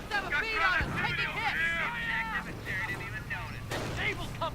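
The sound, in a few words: gunfire in a Company of Heroes-style video game battle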